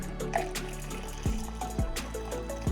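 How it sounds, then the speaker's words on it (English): Water pouring into a mixture in a container, a continuous splashing gurgle punctuated by a few low thuds and clinks, close and moderately loud. "And now I'm pouring in the rest of the water."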